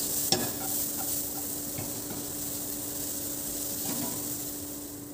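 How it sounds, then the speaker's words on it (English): Vegetables and rice sauté in a hot pan, a continuous sizzle with occasional scraping knocks as the food is tossed and stirred, close and fairly loud with no voices. "we're going to just saute the vegetables"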